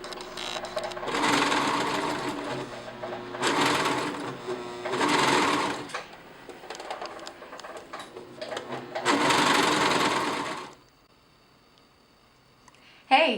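Coverstitch sewing machine stitching fold-over elastic onto a garment armhole, running in four loud close bursts of rapid whirring with brief pauses, then stopping; a voice speaks quietly at the end.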